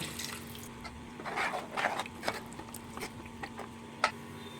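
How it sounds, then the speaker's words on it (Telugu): Water poured into a simmering cashew chicken gravy in a pan: soft, uneven splashing and trickling at low volume, with a few sharper splashes near the end. "ఇంకా కొన్ని వాటర్ వేసుకుందామండి ఎందుకంటే ఇది అడుగంటుతుంది కాబట్టి వాటర్ వేసుకోవాలి"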